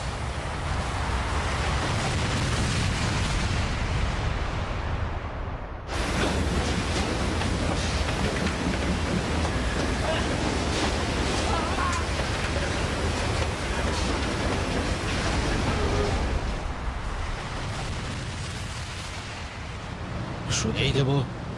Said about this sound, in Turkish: Sanırım büyük bir patlamaydı bu.